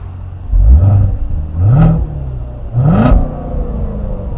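A Chevrolet Corvette Z06 with a 650 bhp V8 and 7-speed manual, set to sport mode, gives three loud, close throttle blips, each rising in pitch and falling back to a rumbling idle.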